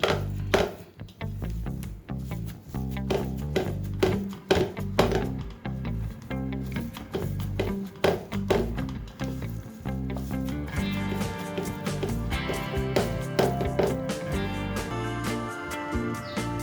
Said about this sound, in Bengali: এইভাবে হাতের এই অংশটা দিয়ে ছানাটাকে খুব ভালোভাবে এরকমভাবে মাখিয়ে নেব